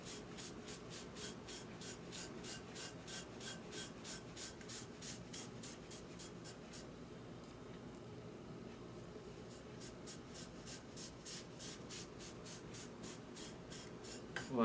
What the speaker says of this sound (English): Just wipe it on first and then try to work it down into the little textures.